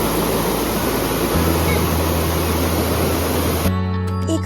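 Sea waves at Mandarmani beach make a steady, dense roar of surf that stays loud and continuous for most of the time before cutting off abruptly near the end.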